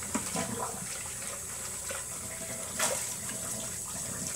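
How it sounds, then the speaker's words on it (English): Food being washed in a bowl under a running kitchen tap: a steady, moderately loud stream of water splashing into the bowl, with faint clinks and swishes and no speech. "Wash in a bowl."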